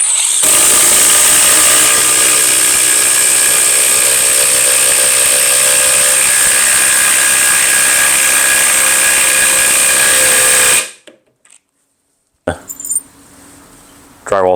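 A Kobalt 24V brushless impact driver (KID 124B-03) drives a 3/8 by 5-inch lag screw in one loud, continuous hammering whir of about ten seconds, then stops abruptly; a short burst of softer noise follows.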